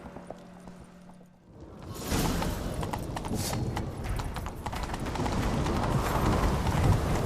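In The Witcher 3: Wild Hunt, after a brief quiet moment, a rapid, steady drumming of galloping horse hooves rises and continues with a rushing, windy background.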